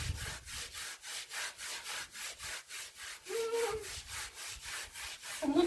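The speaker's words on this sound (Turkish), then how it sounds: "Mutfağın halısı ince olduğu için elimde yıkayayım dedim." Thin kitchen rug scrubbed by hand to lift yellow stains at its edges, giving steady rhythmic rubbing strokes, about two per second, close and moderately loud with no talk.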